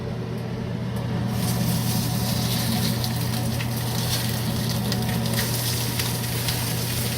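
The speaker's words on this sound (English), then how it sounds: "we are going to sear it pan side down, or fat side down" Rack of lamb searing fat side down in a hot pan, a steady broadband sizzle and crackle holding throughout at close range, with a low hum underneath.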